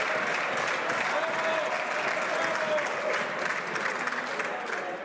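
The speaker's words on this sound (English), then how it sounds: "I know members want to applaud the Honourable Parliamentary Secretary" Members of the Canadian House of Commons applaud in the chamber with steady, dense clapping that holds at an even level throughout, and a faint voice is heard beneath it.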